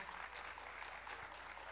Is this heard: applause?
yes